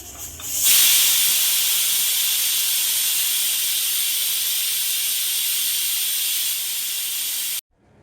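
A pressure cooker holding mutton boti curry vents its steam after the whistles, a loud continuous close hiss that starts suddenly, holds steady for about seven seconds, then cuts off abruptly.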